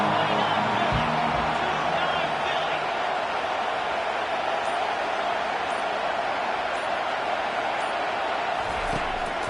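A football stadium crowd roars and cheers on a third-and-long play, a dense, sustained wash of distant voices and noise that holds steady throughout with no clear break.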